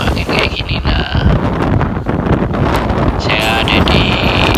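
Strong typhoon wind in Hong Kong, roaring and buffeting loudly against the microphone in continuous gusts with heavy rumble and hiss, overwhelming all other sound.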